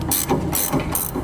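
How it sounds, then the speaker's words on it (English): A ratchet wrench snugging down bolts on an underbed gooseneck trailer hitch on a 2016 GMC Sierra, a few quick, loud, close ratcheting clicks in short bursts. "we can snug them down with a wrench."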